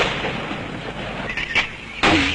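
Heavy American mortar fire by Kurdish Peshmerga fighters in 1975 Kurdistan: rumbling distant blasts, then a sharp louder explosion near the end, with faint voices in the background.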